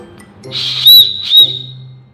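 An emergency whistle built into the handle of a camping shovel is blown twice, giving two short, shrill, piercing blasts close to the mic over a low background hum.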